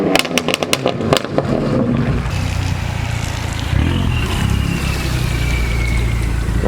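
A Renault four-cylinder car engine revs hard, opening with a rapid burst of sharp crackles and pops, then settling into a loud, sustained drone with a rising whine.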